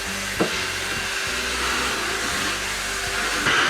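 A Dirt Devil Cordless Reach Max Plus 3-in-1 cordless vacuum cleaner runs with a steady, close whooshing motor hiss and a brief bump or two, no talking over it.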